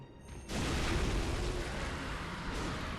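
A cannon fired by an Undead Giant enemy in the video game Bloodborne, a loud booming blast that holds as a dense, roaring rumble for several seconds.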